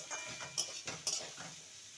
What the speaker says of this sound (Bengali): ভালো করে নেড়ে নেব মশলার সাথে লাউটাকে